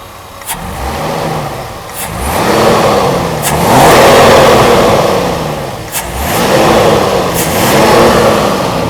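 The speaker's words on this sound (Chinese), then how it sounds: "加油相当顺畅。" A Mercedes R129 300SL engine revs on test in a Taipei workshop after a fuel distributor repair: loud, close throttle blips rise and fall about four times in a steady rhythm, each ending with a sharp snap.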